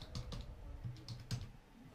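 Typing on a computer keyboard, a quiet, close run of uneven key clicks and taps at a moderate pace.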